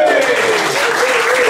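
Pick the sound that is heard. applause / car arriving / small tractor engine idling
applause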